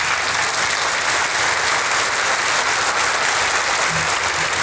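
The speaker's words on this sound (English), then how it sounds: "I'd like to give them a round of applause" An audience at a management team meeting applauds the teams, with dense, sustained clapping filling the room evenly from start to finish.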